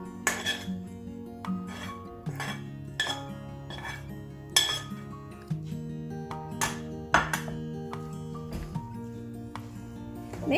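A spoon stirs tempered seasoning into paniyaram batter in a bowl, striking the bowl in a steady run of sharp metallic clinks and taps over about ten seconds, with a faint tonal background underneath.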